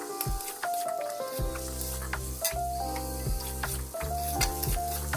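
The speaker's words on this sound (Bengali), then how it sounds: "এর মধ্যে আমি একটু গুঁড়ো মশলা দিয়ে দিলাম, দিয়ে ভালো করে মশলাটা আমি নাড়াচাড়া করছি" Ground spices are stirred in a hot pan for a Bengali fish curry, giving a loud, steady sizzle broken by repeated scraping strokes of the spoon, with sustained tonal sounds running underneath.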